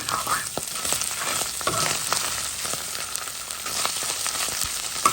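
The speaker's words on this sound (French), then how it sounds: "Je le fais frire. Et je mélange tout ça là bien." Rougail cooking in a pot, frying with a steady hiss while being stirred, the spoon scraping along the bottom in scattered clicks, loud and close with no talk.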